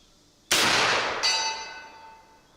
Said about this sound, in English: let's see if we can hit that gong at 110 yards